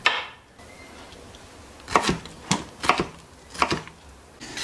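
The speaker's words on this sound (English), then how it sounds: "I'm just finally chopping up this pineapple here that I harvested 2 days ago" Knife chopping homegrown pineapple for pineapple and ginger jam: four or five sharp, close cutting thuds on a board, spaced irregularly with quiet gaps, no talking.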